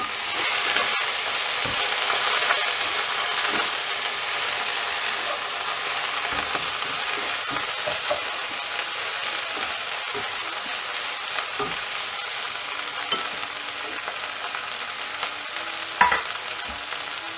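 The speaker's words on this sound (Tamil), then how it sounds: "புதினா ஆட் பண்ணிவிட்டு இதை நல்லா ஃப்ரை பண்ணிடணும்" Mint and curry leaves frying in a pan make a continuous, fairly loud sizzle, broken by repeated clicks and taps as they are stirred.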